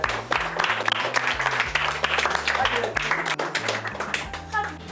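Children and adults clapping together at a bread-making workshop, a steady round of applause lasting several seconds with voices mixed in and low music-like tones underneath.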